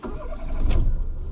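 Fiat Uno engine starter cranking briefly before the motor catches with a low rumble, a single short start heard up close.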